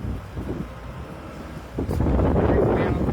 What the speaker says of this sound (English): I know it's getting a little windy now.